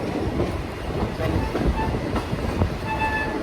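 Steam locomotive NKP 358 runs down the railroad with the steady rumble and rhythmic clatter of the train's wheels and cars, close and continuous, with no talking.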